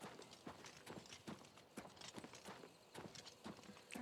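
A horse's hooves clip-clop at a steady walking rhythm in The Elder Scrolls IV: Oblivion Remastered, a quiet, even series of hollow knocks with no voices.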